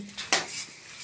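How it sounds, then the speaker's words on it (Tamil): A child clatters pots and dishes in a home kitchen, producing a couple of faint, quick metallic clinks and scrapes in a quiet room. "எங்கள் மக பாத்திரம் உடைக்கிட்டு இருக்கு."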